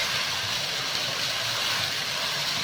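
Potato kofte sizzling as they fry in a cooked masala, giving a steady, dense hiss that runs unbroken and fairly close throughout, with no talking.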